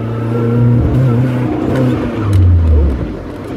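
Toyota AE86 engine revving in a worn project car with a hiccup under hard throttle, a close, loud, uneven rev that wavers and dips partway through before climbing again.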